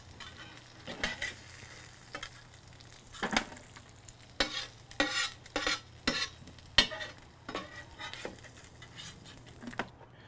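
Pork belly and pineapple frying in a pan for al pastor street tacos: a steady sizzle broken by repeated sharp scrapes and clacks of stirring, close and fairly loud, with no talking.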